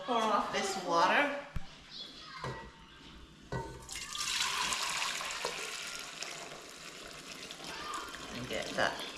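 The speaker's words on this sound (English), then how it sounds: "so we're gonna pour off this water." Hot water is poured off a pot of cooking cow foot and beans, a splashing, running pour in a kitchen, heard with a voice and an adult talking over it.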